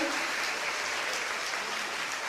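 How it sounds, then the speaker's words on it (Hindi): Hall audience at a school STEM lab inauguration applauding, a steady, fairly faint wash of clapping heard at a distance for a couple of seconds. "एक बार जोरदार तालियों से थैंक्स करें।"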